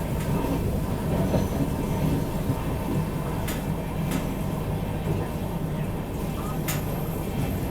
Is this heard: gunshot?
no